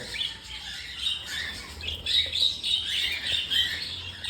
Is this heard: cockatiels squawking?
yes